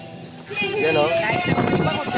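Gusty wind in Barangay Calabasa, Nueva Ecija, Philippines, buffets the microphone in loud, rushing roars, with a voice speaking underneath.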